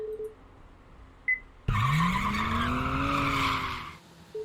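In a Japanese horror video game, a car's tires screech in a loud, sustained skid lasting a couple of seconds as the brakes are pressed, then cut off abruptly into quiet.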